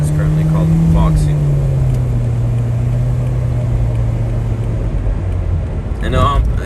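A Foxy minibus van drives through Yerevan streets at night, its engine humming steadily with a falling tone as it slows, under a constant road rumble inside the cabin.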